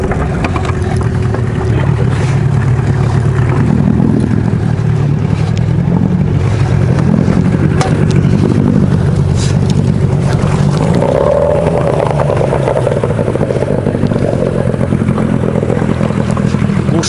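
Outboard motor pushing a boat along a river while fishing for taimen, a loud, steady droning engine that holds for the full length with slight shifts in pitch.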